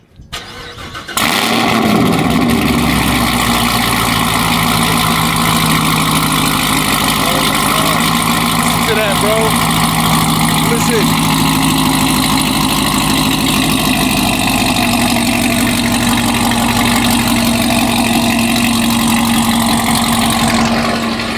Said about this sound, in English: I'm gonna go ahead and start this one up and we'll let this idle for a second